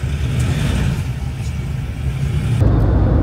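A car drives up out of a hole, its engine rumbling loud and close with a low, steady drone that deepens and swells as it pulls out near the end.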